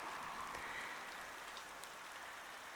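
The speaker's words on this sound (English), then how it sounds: "Don't know whether you can hear the rain. Pitter patter, pitter patter." Rain patters softly and steadily on plants and surfaces in a garden, a faint continuous hiss of drops with no voices.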